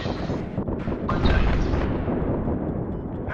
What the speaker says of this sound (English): This giant explosion.